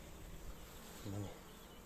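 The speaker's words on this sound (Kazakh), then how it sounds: "Ара деген осы болады." Honey bees hum at a beehive in a faint, steady buzz, with one bee droning briefly louder as it passes near.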